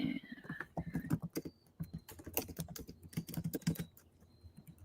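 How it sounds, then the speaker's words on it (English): Fingers typing rapidly on a computer keyboard, irregular bursts of clicky keystrokes close up with short pauses between runs, no voices. "We're just typing away."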